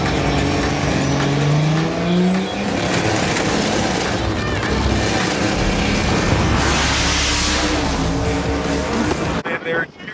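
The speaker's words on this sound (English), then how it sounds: "Stefan found a Supra for me to race" A Toyota Supra race car at Amarillo Dragway roaring loudly and steadily, engine note building under crowd noise and talk before cutting off abruptly.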